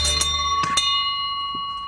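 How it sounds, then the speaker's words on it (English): Pub landlord's hand bell rung for last orders: a couple of quick bright strikes near the start, then a sustained metallic ring that slowly fades, with no talk. "the landlord rang the bell for last orders"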